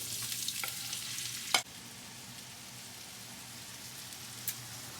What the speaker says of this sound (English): after the oil is a little bit hot, we're gonna add onions